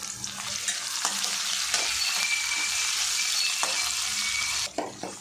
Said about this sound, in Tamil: பச்சை மிளகாய் எண்ணெயில் நல்லா பொரிஞ்சதுமே ஒரு தக்காளி பழத்தை கட் பண்ணி வச்சுருக்கோம்.